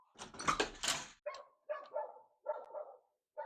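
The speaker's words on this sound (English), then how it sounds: "Do you guys hear the dog?" A dog barks indoors: a jumble of loud close barks at the start, then four separate sharp barks spaced about half a second apart.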